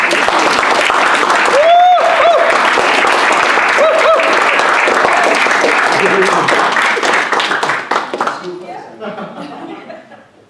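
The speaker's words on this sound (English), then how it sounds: "Give a round of applause." Loud audience applause at a speakers' event, dense sustained clapping with chuckles and laughter and a voice calling out over it, tapering off near the end.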